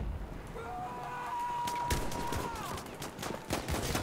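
Sharp, clustered gunshots ring out in a Battlefield 1 multiplayer game, with a whistling tone early on and several hard cracks toward the end.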